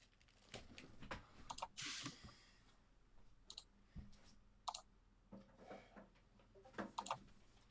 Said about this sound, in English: there's typing going in the background